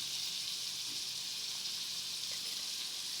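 Tomatoes frying in a pan while making pasta, a steady, even sizzle with a bright hiss that holds at the same level throughout, close and alone with no voices.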